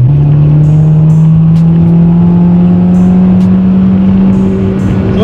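Honda Civic engine held at high revs around 6000 rpm in second gear, a loud, steady, close droning roar with a slowly rising pitch, continuous for several seconds.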